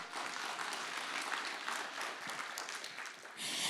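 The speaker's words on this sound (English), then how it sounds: "Swakop Uranium also deserves a big and even louder round of applause" Conference audience applauding at the Effective Communicators Conference 2025: a brief, fairly faint wash of dense clapping that holds steady and swells slightly at the very end.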